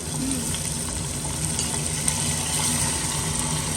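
Chana dal tempering with tomato, garlic, ginger and green chili sizzling in a pan, a steady, even hiss of frying that continues throughout with faint crackles.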